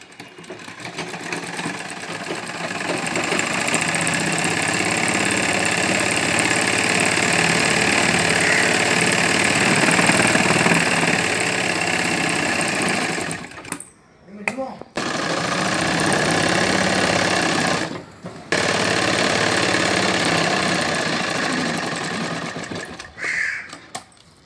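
A sewing machine runs steadily while stitching the sides of a fabric piece, with a loud, close, even mechanical whir that stops briefly twice before starting again.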